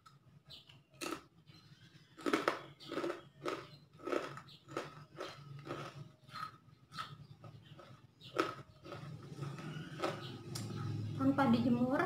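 Crisp bites and chewing of freshly fried, unsalted Indonesian keripik basreng (crunchy fried meatball chips), a series of sharp crunches in a steady rhythm, close and clear with some talk near the end.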